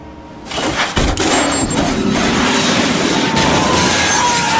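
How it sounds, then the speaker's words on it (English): An ejector seat fires from a functioning jet in a Hitman game: a sharp boom about a second in, followed by a loud, sustained roaring rush of air and debris. "Step three, pull the ejector seat handle."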